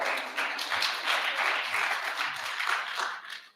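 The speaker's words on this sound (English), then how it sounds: "Get Jason a round of applause." An audience at a Sunday addiction-recovery ministry gathering claps in steady, fairly close applause for a participant coming up, holding even and then tapering at the end.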